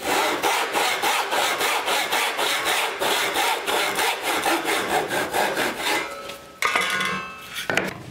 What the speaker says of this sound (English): Now I'm going to come right up to my knife line and saw in the shoulder.